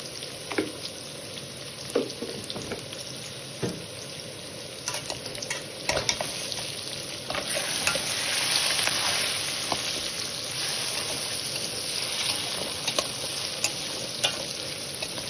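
Potatoes and okra fry in a pan with a continuous sizzle, while occasional sharp scrapes and clinks of a stirring utensil sound against the pan.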